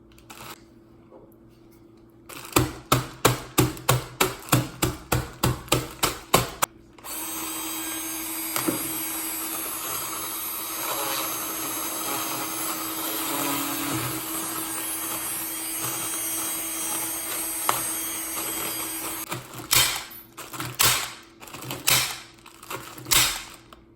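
Instant noodles are crushed inside their bag with the flat side of a spoon, making a run of rapid crinkling crunches. A steady hiss follows, then more scattered crunching near the end.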